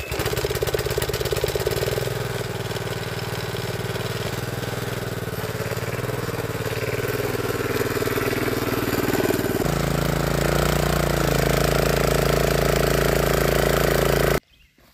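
A small pull-start garden tiller engine runs close by with a loud, steady chugging putter, shifting to a deeper, smoother note partway through before cutting off abruptly at the end.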